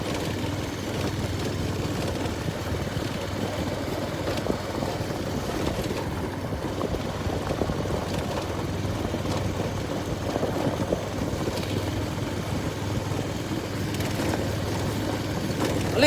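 A motorbike engine drones steadily while riding along a rough gravel road strewn with stones, a constant low hum with faint rattling and no talk.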